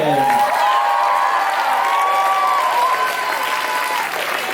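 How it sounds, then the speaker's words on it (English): Loud, steady applause from a large crowd at a black belt martial arts demonstration, with cheers and whoops rising over the clapping throughout. "one last big round of applause"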